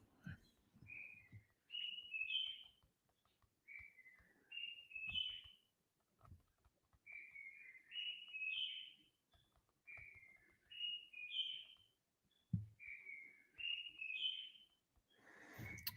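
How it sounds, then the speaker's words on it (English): Birds call in the background, a repeated pattern of short rising whistled phrases that comes back in regular bursts, faint and distant, with low knocks and noises in between. "Bloody birds in the background."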